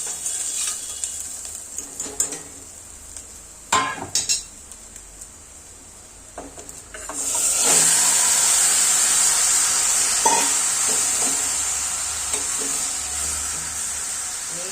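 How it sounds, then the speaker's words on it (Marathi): Chicken with browned onion fries in oil over a high gas flame, starting with a few clanks and scrapes of a spoon in the pan before a loud, steady sizzle swells and continues, close and without voices. "फास्ट गॅसवर आहे ना चांगलं परतून घ्यायचंय चिकन"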